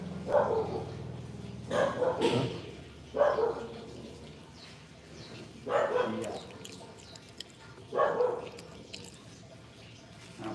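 A dog barks about five times at a moderate distance, single woofs spaced a couple of seconds apart against a quiet background.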